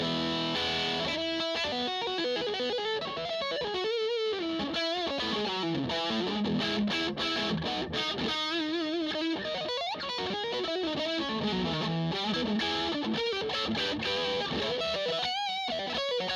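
Electric guitar through a high-gain Marshall JCM600 amp, played as a continuous heavily distorted melodic line with sustained bends and quick runs, loud and steady, with no talking.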